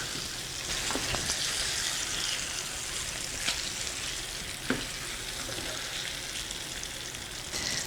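Chicken pieces for a chicken and spinach stir fry sizzle steadily in a hot pan, a constant close crackling hiss with a few sharp pops and light spatula scrapes, no voices.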